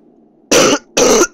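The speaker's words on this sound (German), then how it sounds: "Entschuldigung, dass ich hier noch ein paar Mal hust" A man coughs twice, two sharp, loud, close bursts with a short gap between them.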